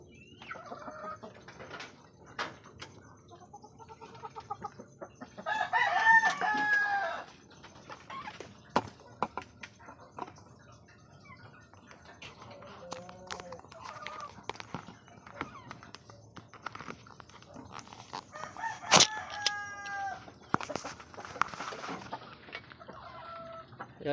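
Chickens and roosters in a lit coop at night give intermittent close clucking and squawking over about twenty-four seconds, with a louder burst of calls early and another near the end, amid scattered small knocks and rustles.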